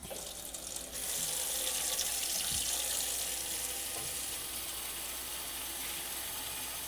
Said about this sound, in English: Going to get some hot water going